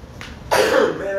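One sharp, breathy sneeze bursts out from a man close to the microphone, partway through his spoken sermon, then trails off into a hiss of air.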